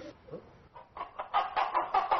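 A performer on a stage show imitates a rooster's crow with his voice, a series of rising, choppy clucking bursts that grow louder toward the end.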